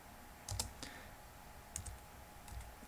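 A few soft, close clicks of keys on a computer keyboard, scattered irregularly as a command is typed into a Linux terminal, quiet with no talking.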